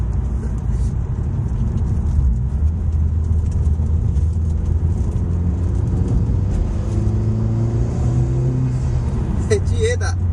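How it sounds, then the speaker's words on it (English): Honda Civic Type R FK2 engine drones steadily from inside the car as it pulls and rises in pitch, with a short sharp hiss of the blow-off valve near the end. "That was the blow off valve again."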